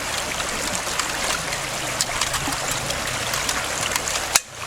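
Water and sand sloshing and rattling inside a locked MSR cooking pot being shaken hard, a continuous close gritty swish with steady rhythm, ending in a sharp knock.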